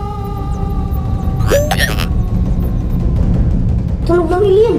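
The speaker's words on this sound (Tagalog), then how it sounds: "Tunog ng alien." An alien sound effect from a game: warbling, pitch-bending electronic tones that swoop upward in two short bursts over a constant loud background noise.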